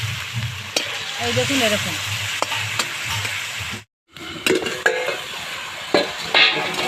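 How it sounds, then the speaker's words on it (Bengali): Kuche fish (mud eel) pieces sizzling and being stirred in hot oil in a pan, a steady frying hiss with utensil scrapes, briefly cut by a short gap, while someone talks over it. "তেল গরম হয়ে গেছে, আমি এখন তেলের মধ্যে দিয়ে একটু কষিয়ে নেব।"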